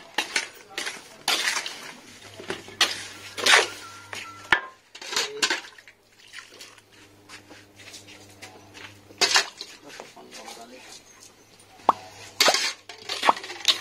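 New sand with small stones is poured into a bird cage, giving scattered gritty clinks and rattles in irregular bursts, fairly close, with quiet gaps between pours.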